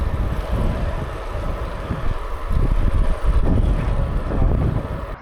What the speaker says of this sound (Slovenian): Tukaj kar precej močno piha, pa me res zanima, kakšen bo zvok na novi kameri.